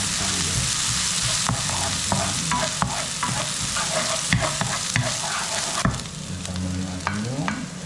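Onions fry in a pan while being stirred for a tuna dish, a steady close sizzle broken by repeated scraping strokes of a spatula, with no talking.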